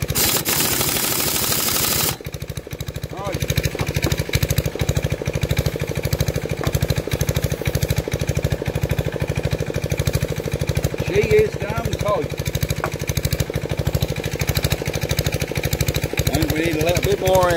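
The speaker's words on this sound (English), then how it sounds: "compressor is now 150 and turned off" An air compressor pumps loudly and steadily with a rapid pounding beat, building pressure beside a Villiers Mk40 engine on a Bonser auto truck; a voice speaks briefly underneath.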